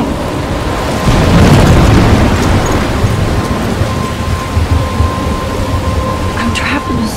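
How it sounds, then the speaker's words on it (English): A thunderstorm rages in the video game Life is Strange, with loud, dense rain hissing throughout and a heavy thunder rumble swelling early on before settling back into the steady downpour. "I'm trapped in a storm?"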